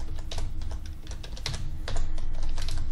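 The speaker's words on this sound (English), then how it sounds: "So I'm going to type in osboxes.org as the password." A password being typed on a computer keyboard: a close, rapid run of clicky keystrokes in uneven bursts, with no talking.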